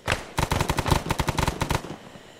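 Automatic gunfire in the military shooter Arma 3, a rapid close burst of sharp cracks in quick succession for about a second and a half, then a short fading tail.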